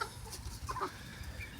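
Chickens in a backyard flock of about thirty hens and roosters cluck softly in short, scattered bursts, faint and somewhat distant against a steady outdoor background.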